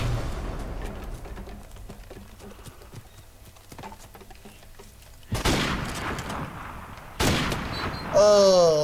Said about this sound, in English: Oh, that was a close shot.